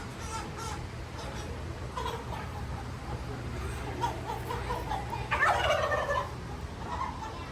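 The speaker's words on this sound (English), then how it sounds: "Oh, turkey dinner right here. Listen to that gobble." A turkey at a county fair gobbles in a rapid, close burst over a steady background hum, with people talking softly around it.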